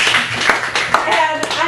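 Loud applause and clapping from a cafe gallery cabaret audience after a poetry set, steady hand claps with a few sharp peaks while a host's voice speaks over it.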